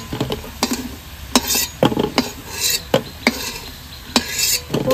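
Crisp fried fish-roe fritters made with gram flour and rice flour are lifted from a frying pan, giving a string of sharp, irregular clacks and clatters against metal over a faint background sizzle.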